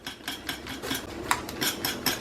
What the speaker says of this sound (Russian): Все равно еще немного помешиваю, так как кастрюлька еще горячая.